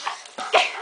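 A dog whimpers close by while a helicopter is around, two or three short high whines and yelps in under a second, loud and abrupt with no talking.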